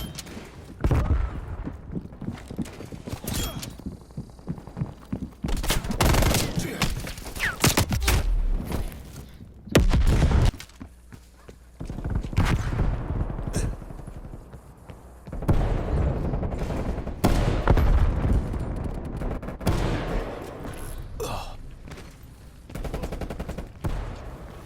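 An enemy sniper rifle fires in a Call of Duty match, its sharp cracks mixed into dense, near-continuous gunfire and heavy impacts that keep up for the whole stretch.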